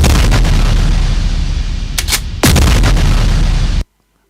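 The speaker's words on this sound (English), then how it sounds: "Big gunshot right there, Lola." A loud, sharp gunshot-like boom cracks out amid a dense noisy background, then the sound cuts off abruptly.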